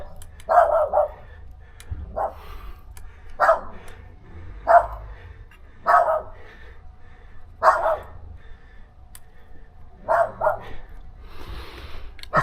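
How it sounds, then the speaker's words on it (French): A dog barks in short, evenly spaced bursts, about nine in all, fairly close and clear over a quiet outdoor background during a walk between Sucy-en-Brie and Champs-sur-Marne. "Très beau chien."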